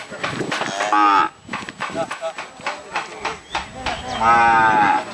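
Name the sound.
Holstein Friesian cattle at cattle market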